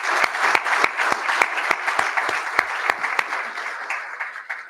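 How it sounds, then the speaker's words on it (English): A crowd applauds at a school excellence awards event. Steady indoor clapping comes with a few sharp, closer claps standing out over the dense wash, and it fades slightly toward the end. "How about a round of applause for this crowd?"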